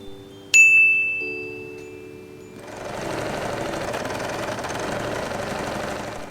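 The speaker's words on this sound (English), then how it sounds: "we are going to join the fabric and sew a straight line" A sewing machine runs a straight seam joining faux fur fabric for a Christmas headband, a steady fast mechanical whir starting after a bright chime and lasting several seconds, close and fairly loud.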